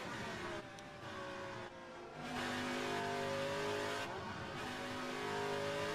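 A BRM H16 Formula 1 racing car from the 1967 season, its engine note swelling and holding loud and steady with a strong harmonic whine, with no voices.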